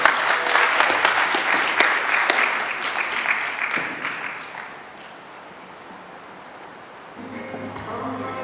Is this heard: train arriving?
no